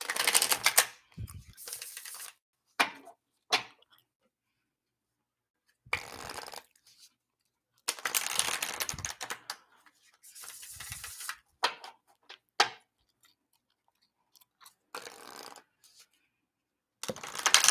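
Tarot cards are shuffled by hand, close up, in a series of separate bursts of crisp riffling and rustling with short quiet pauses between them.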